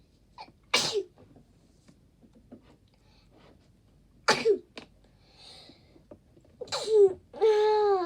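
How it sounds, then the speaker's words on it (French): Three sharp sneezes spaced a few seconds apart, close up, with quiet pauses between them; the last one trails off with a voiced sound. "j'arrête pas d'éternuer."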